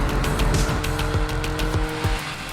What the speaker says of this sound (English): I can change a gear down, rev it all the way up, and change the gear up again